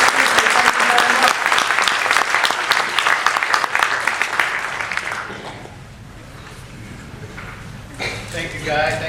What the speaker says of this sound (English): give a big round of applause for David Ellis.